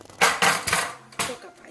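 A metal lid comes off a pressure cooker pot just after its two red pressure indicators have dropped, giving a few close clanks and scrapes of metal on metal in quick succession.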